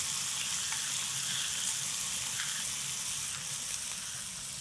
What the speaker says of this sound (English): the fillet can get that nice sear